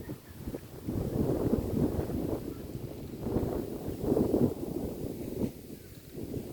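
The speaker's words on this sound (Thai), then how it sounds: "ลมมันคือแห้งว่ะ" Wind gusting outdoors around a house, rough low buffeting that rises and falls in uneven bursts against the microphone.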